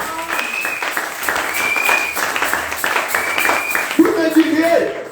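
A church congregation applauding and cheering together, a steady wash of clapping with raised voices over it, moderately loud and building toward the end.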